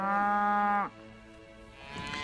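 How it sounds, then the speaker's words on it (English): A longhorn cow on a working ranch on the Great Plains lets out one long, loud, close moo that cuts off abruptly, followed by quieter lowing and outdoor background. "These are your classic longhorn cattle."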